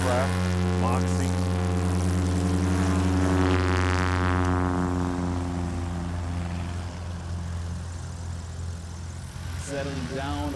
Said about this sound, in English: Joel Dobson introducing some power into that awesome aircraft, Moxie